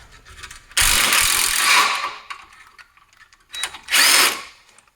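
A power tool with a 14mm socket whirs in two loud, close bursts, removing the rear differential bracket bolts on a Subaru STi, with a quieter pause between them.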